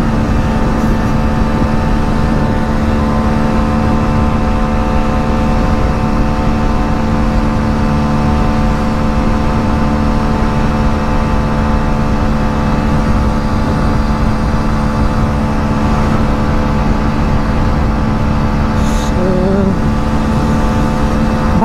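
A Hero Splendor Xtec BS6 2022 motorcycle engine held at top speed near 93, a steady loud drone with a constant hum that never lets up. Wind roar mixes with the engine throughout.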